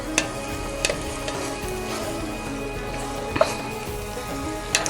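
Minced meat with tomatoes cooking in a pan, a steady close sizzle broken by a few sharp spoon knocks against the metal.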